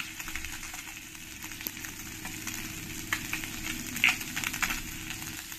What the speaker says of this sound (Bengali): আমি পরের মাছগুলোকে ভালো করে ভেজে নিয়েছি।